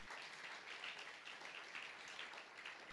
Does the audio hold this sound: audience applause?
yes